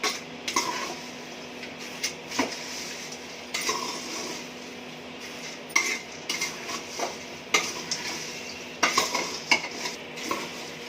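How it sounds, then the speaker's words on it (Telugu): A utensil stirs kaaram buragulu frying in a pan over a medium flame, giving repeated scraping clinks against the pan above a steady low sizzle. "ఇప్పుడు మీడియం ఫ్లేమ్ పెట్టుకొని కొంచెం సేపు వేయించుకోవాలి."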